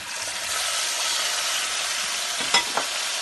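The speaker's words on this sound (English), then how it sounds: "I'm going to give that a stir." Mushrooms with ginger, garlic and ketchup get stirred in a hot pan as part of a quick vegan curry, a close steady sizzle with a couple of short scraping knocks near the end.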